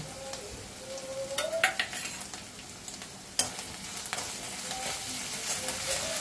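Chopped onion, onion paste and ginger-garlic paste fry in hot oil over a panch phoron tempering, a steady close sizzle broken by bursts of stirring and a few sharp metallic scrapes of the spoon against the pan.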